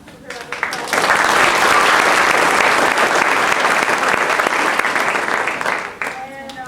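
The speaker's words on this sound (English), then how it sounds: "give her a round of applause" An audience breaks into sustained applause for the pianist who accompanied a Sunday afternoon stage performance of Hello, Dolly!, loud and dense for about five seconds before thinning out, with a voice and cheer faintly mixed in.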